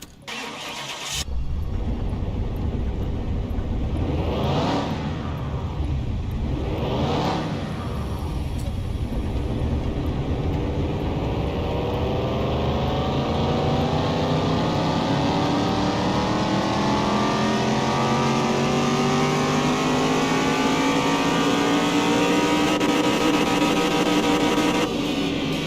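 A rebuilt car engine fires up and revs on a dyno in Car Mechanic Simulator 2021. It catches, runs through two sharp rev sweeps, then climbs in one long sustained pull through the gears, loud and close.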